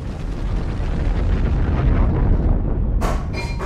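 A huge, roaring explosion in the video game Dead Space 3, a dense, rumbling blast sustained for a few seconds that cuts off into two sharp crackling bursts at the end.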